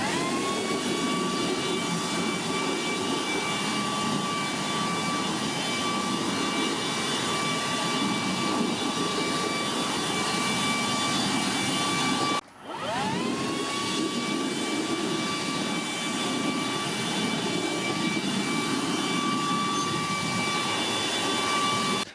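Makita 40V cordless leaf blower running at full power, a loud, steady high-pitched whine with a rushing air roar. It cuts out for a moment near the middle and then spins right back up.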